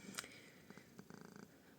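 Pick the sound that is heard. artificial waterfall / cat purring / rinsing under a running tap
cat purring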